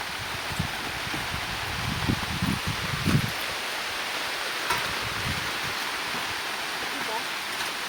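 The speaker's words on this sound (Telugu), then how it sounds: "వాన అయితే ఇప్పుడే స్టార్ట్ అయింది" Rain falling outdoors at night, a soft steady hiss of drops with occasional brief rustles and a few low thumps near the start, fairly faint and continuous throughout.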